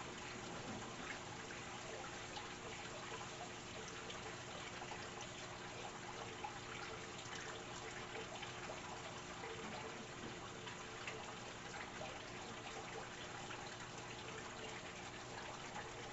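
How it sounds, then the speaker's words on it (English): Water from a 50-foot Python hose filling a tank, a steady, even rush of flowing water that runs unbroken and alone throughout. "So let me get the water going. We'll start filling this big boy up again."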